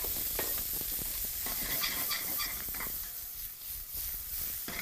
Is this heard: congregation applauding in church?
no